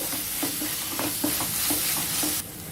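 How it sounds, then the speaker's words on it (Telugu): Masala macaroni sauce with tomato sauce and red chilli sauce frying in a pan, a constant loud sizzle with quick rhythmic scraping strokes of a spoon, the hiss dropping off abruptly near the end. "ఇప్పుడు ఇదంతా కూడా కలుపుకొని ఒక్క నిమిషం ఫ్రై చేసేసుకోవాలి"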